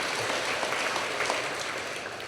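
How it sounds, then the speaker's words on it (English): Steady applause from a crowd at an alumni awards gala, a dense wash of clapping that holds evenly throughout. "Yes, that deserves a round of applause"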